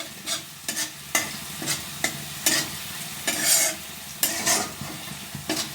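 Ingredients are stirred in a dry pan over a medium flame, each pass of the spoon making a gritty scraping sweep, repeated about a dozen times in an uneven rhythm, close and clear with no talking.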